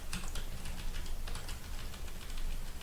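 Typing code into a computer while writing an array for a merge sort program, a continuous patter of quick keystrokes of uneven strength, close and fairly loud, with no talking.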